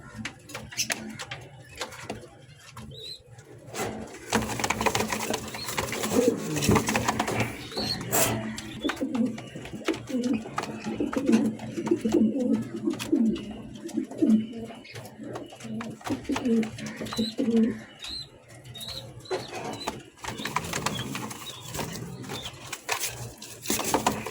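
Pigeons coo repeatedly in deep, throaty rolls, fairly close and continuous, with occasional scuffling and flutter sounds around them.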